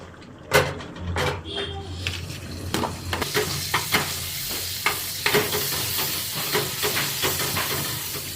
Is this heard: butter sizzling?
yes